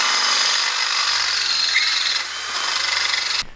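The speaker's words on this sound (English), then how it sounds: "that's what we're doing now, is drilling out the stainless." Power drill boring out stainless steel during a roll cage installation, a continuous harsh grinding whir that holds steady for a few seconds, then dips briefly and cuts off abruptly at the end.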